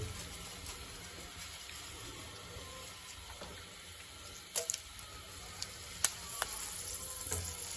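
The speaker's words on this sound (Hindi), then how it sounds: "ये अजवाइन डाल दिए घी में और साथ में सुरख मिर्ची डाल देंगे" Ajwain seeds and red chillies sizzle in hot ghee as a tempering for kadhi pakora, a continuous soft hiss broken by a few sharp pops and crackles near the end.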